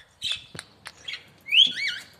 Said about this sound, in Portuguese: aquele ali que está cantando é o Flash, está cantando nacional para mim